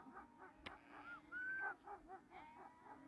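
Several excited herding dogs yip, whimper and bark in short bursts, faint and somewhat distant, with one sharp knock partway through.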